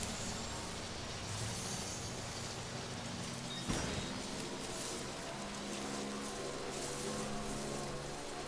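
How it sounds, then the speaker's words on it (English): Rain falling in the video game Death Stranding, a steady faint hiss of drops across the whole stretch with one brief soft thump midway. "It's been raining here."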